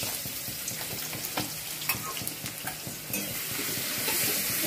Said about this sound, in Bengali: রসুনটা তেলে দিয়ে ভালো করে একটু নেড়ে চেড়ে ভেজে নিয়ে